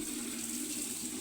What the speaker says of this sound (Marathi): आता एवढं पाणी घेतो मी भरून 2-3 टप्पा आणि झालं.